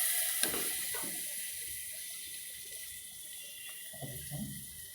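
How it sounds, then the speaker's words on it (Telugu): Salted water from cut raw mango pieces drains through a kitchen strainer, a steady faint trickle with a few soft clinks and splashes near the start and toward the end. "ఇలాగా మనం స్ట్రైనర్లోకి ముక్కలు తీసుకుంటే ఆ వాటర్ కింద పడిపోతుందండి"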